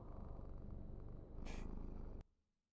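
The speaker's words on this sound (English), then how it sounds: "Where's my bunker cat?" A cat purrs steadily in the video game Ghosts of Tabor, a low continuous rumble for about two seconds with a brief brighter rustle in the middle, then it cuts off abruptly into silence.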